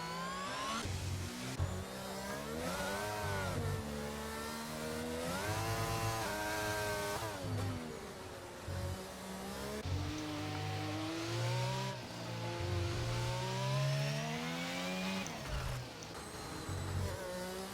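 Mercedes and Ferrari race cars in a racing game, with several engines whining and revving continuously, pitch rising and falling through gear changes, loud and close throughout.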